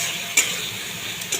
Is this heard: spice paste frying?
yes